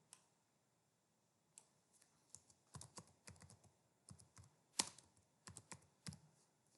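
Keys on a computer keyboard are pressed to enter a dimension into AutoCAD, a sparse, irregular run of close, quiet clicks in short bursts after a near-silent start.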